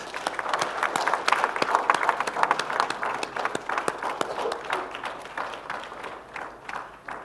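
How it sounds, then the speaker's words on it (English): A workshop audience gives a round of applause, many hands clapping with sharp, dense claps that swell early and then gradually thin and fade toward the end. "So please, first of all, a big round of applause."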